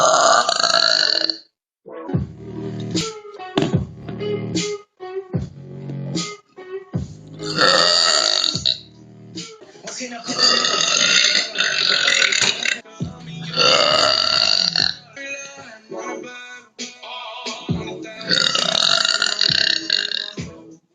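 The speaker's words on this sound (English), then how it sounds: "When I burp a lot, it gets me like." A young woman lets out a run of long, loud, close burps one after another, separated by brief silent gaps, each belch drawn out and strongly voiced.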